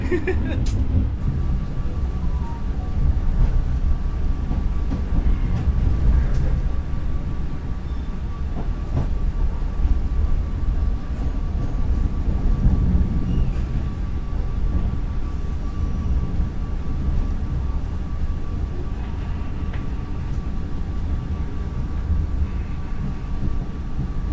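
Continuous rumble and rattle of a KA Menoreh economy class passenger train in motion, heard from inside the carriage, with faint clicks of the rails and murmuring voices under the noise.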